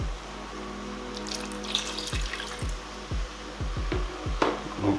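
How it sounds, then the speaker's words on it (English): Water poured into a pot of Nigerian chicken pepper soup, a steady pour with close clinks and taps against the pot, no talking. "I am going to add just a little bit of water."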